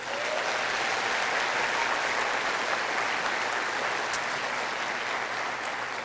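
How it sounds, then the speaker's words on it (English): An audience at a collegiate high school graduation ceremony applauds, a continuous, even roar of clapping from a large crowd sustained throughout. "If you could please give them a round of applause."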